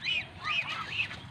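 Thirsty geese on a farm in scorching heat give about three faint, nasal honks in quick succession, with no talk.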